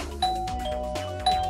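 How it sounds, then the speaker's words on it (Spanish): A doorbell in a Christmas cartoon rings twice with bright ding-dong chimes, each strike clear and close over a soft background. "es el timbre"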